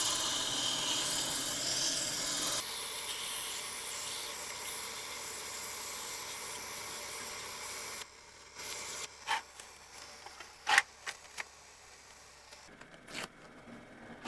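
A wood lathe spins a slimline pen blank during sanding: a steady, loud whirring hiss for about eight seconds, then a quieter hum as the lathe slows, with scattered sharp scrapes and taps from the sandpaper.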